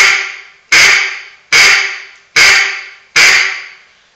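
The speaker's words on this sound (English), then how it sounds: "all I'm doing is saying the word quack." Close, loud quacks from a duck call, a caller voicing the word through the insert: a run of five evenly spaced, sharply clipped notes of identical pitch, the first already trailing off, with short silences between.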